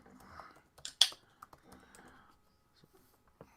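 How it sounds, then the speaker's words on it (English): Light typing on a computer keyboard, scattered clicks and a few sharper key strikes coming in uneven bursts, close and fairly quiet with no talk over it. "I'm typing in Slap Mountain right now."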